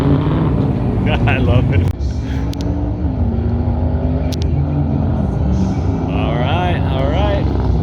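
A T1 class pro touring truck runs a timed autocross course, its engine revving and droning loudly as it accelerates and turns, while a voice talks over it.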